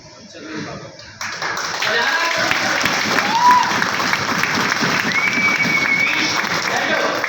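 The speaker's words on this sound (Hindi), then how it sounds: "तालियां बजाना है तो बेहतरीन बजाइए" Seminar audience applauding in a hall, a dense, steady wash of many hands clapping that swells after a quieter start and holds at full level, with voices mixed in.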